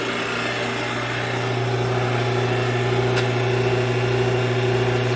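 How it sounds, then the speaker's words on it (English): A refrigerant recovery machine draws the AC charge out of a 2005 GM truck, giving a steady, loud motor drone with a constant low hum that runs unbroken throughout. "So I'm recovering the charge out of the system right now."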